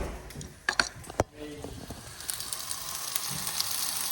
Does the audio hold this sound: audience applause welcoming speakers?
no